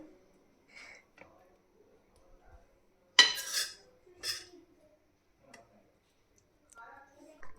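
A ladle scoops beet, carrot, potato and green pea curry spiced with green chilli from a dish. Sparse soft taps give way to one sharp metallic clink and scrape, followed by a few faint knocks in quiet surroundings.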